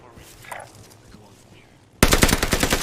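An Stg-44 assault rifle fires in Warzone Pacific, a loud rapid automatic burst that suddenly starts after two seconds of quiet game ambience, with faint talk early on.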